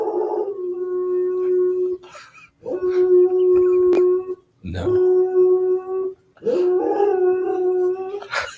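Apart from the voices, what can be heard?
neighbor's dog howling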